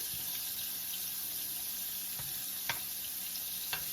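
Liver cooking in a pan, smothered liver and onions, with a steady close sizzle and a few sharp pops and crackles, no talking.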